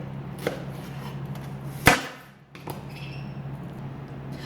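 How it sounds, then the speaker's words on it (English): A knife dices an onion on a cutting board, a handful of sparse sharp chops with one loud board strike in the middle, close up, with no talk. "Last but not least, the onion. Just dice it however you want to."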